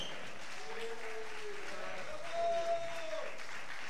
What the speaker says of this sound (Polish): Państwa zapraszam do oklasków.